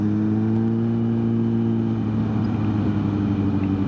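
A loud Kawasaki Z900 motorcycle ridden slowly on the road, a steady close, deep droning engine note at low revs that holds even throughout.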